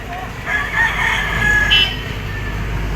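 A yellow-legged white bull stag rooster crows once, loud and close, a drawn-out call over a steady background hum on a gamefowl farm in Lipa, Batangas.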